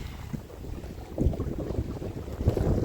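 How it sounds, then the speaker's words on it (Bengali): Strong wind gusts over a river in the Sundarbans as a small fishing boat rocks on choppy waves, a steady low rumble of wind buffeting the microphone that swells louder midway, with water sloshing against the hull. "খুব জোর হাওয়া উঠে গেল"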